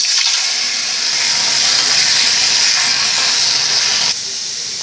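Tomatoes dropped into a hot oiled pan for tomato sesame chutney sizzle with a loud, steady broadband hiss that holds for about four seconds, then eases slightly quieter.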